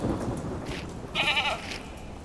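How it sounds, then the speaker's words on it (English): A ram bleats once in a wet, rainy setting, a short wavering call standing out over a steady background of rain and low rumble. "A ram?"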